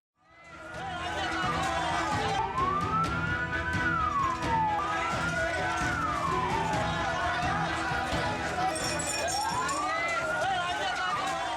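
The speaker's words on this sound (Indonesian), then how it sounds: "Suara sirene polisi memecah tawuran dua kelompok warga di Jalan Kota Bambu Utara" Police car siren wailing in rising and falling sweeps on Jalan Kota Bambu Utara, Palmerah, West Jakarta, breaking up a street brawl between two groups of residents, loud and continuous over crowd noise and chatter.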